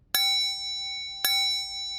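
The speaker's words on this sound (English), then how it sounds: "Let's move on to making the bells ring." Two bright, ringing bell chimes from a Unity touch demo, each struck cleanly and left to sustain with a long shimmering tail, the second about a second after the first, alone in quiet.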